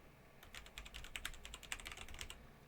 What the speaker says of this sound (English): So in order to make a namespace, you just type in namespace,